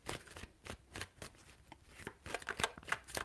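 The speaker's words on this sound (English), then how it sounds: "3 shuffles." Tarot cards shuffled by hand during a reading: a series of quick, close riffling bursts at an uneven rhythm, each a short papery flutter, with no talking.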